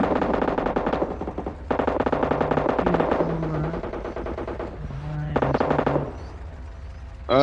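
Machine gun fire in the PUBG Mobile video game, with long loud rapid bursts of automatic shots close by, broken by short pauses, amid game noise.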